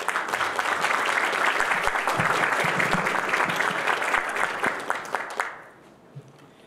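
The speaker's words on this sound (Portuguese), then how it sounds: "Peço, por favor, uma salva de palmas." Sustained applause from a conference audience, steady and dense clapping for about five seconds before it fades out.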